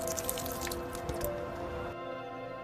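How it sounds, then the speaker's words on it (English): Water dripping from a curry leaf plant after a good soak outdoors, a few close patters and drips with a soft liquid trickle that fade into quiet near the end. "Give it a good soak and let the leaves dry before moving the plant indoor"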